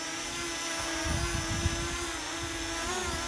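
A small Parrot Anafi quadcopter drone hovers nearby with a steady high-pitched buzzing whine, its motor pitch shifting slightly as it flies.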